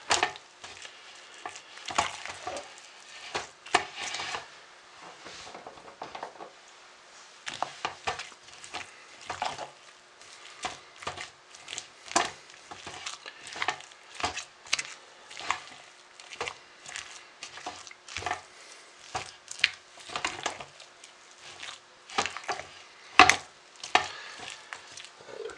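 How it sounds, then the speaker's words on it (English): Hot process soap being stirred with embedded pieces in a pot, producing repeated soft scraping and thick mushy squelches in an irregular rhythm, close but fairly quiet, with no talking. "Just want to stir this really well and make sure that they're all completely coated"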